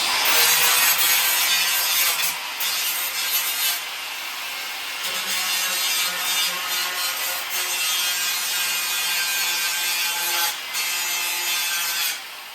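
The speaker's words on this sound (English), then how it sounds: "So if you grind the finish finish off of it." A handheld grinder grinding the finish off metal before MIG welding, a loud continuous abrasive whine and rasp running steadily for over twelve seconds with slight shifts in pressure, close and alone.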